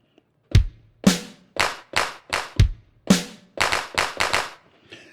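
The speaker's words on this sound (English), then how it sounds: "And let's throw a clap in there." Sampled clap sounds triggered from an iRig Pads drum pad controller: about eleven sharp, punchy claps in a loose rhythm, some doubled with a low thump, loud and close with no talking.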